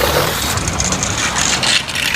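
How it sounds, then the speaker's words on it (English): An off-road truck engine labors loudly on a winding mountain path, a rough close roar with rattling and gritty noise over about two seconds. "The truck roared and gnashed its teeth on the winding, precarious mountain paths."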